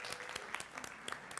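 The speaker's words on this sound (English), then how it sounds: "One more final round of applause for everyone being recognized." Applause at a board of education meeting for recognized students, a quiet room of scattered hand claps with distinct individual claps over a soft crowd wash.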